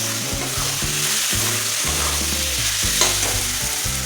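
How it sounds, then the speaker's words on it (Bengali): Cabbage being sautéed with spices in a pan, a continuous loud sizzle with steady stirring and scraping throughout, no voices. "এবার বেশ খানিক হাতে টাইম নিয়ে মশলার সঙ্গে বাঁধাকপিটা ভালোভাবে কষাইতে হবে।"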